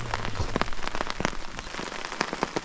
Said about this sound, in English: this rain is just not helping